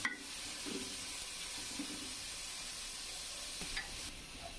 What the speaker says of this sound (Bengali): আমি তেলে পেঁয়াজটা ভেজে নিব